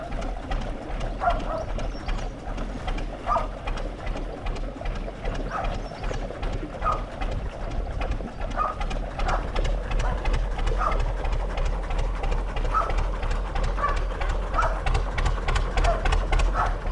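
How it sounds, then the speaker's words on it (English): A canal boat's propeller cavitates with a steady churning, rhythmic thrum that holds close and fairly loud throughout, mixed with engine throb and water noise. "You hear the prop cavitating a little bit."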